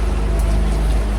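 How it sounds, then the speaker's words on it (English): Heavy rain pours down on a sailboat at sea during a nighttime squall, a loud, dense, continuous hiss with no break. "it's raining a lot"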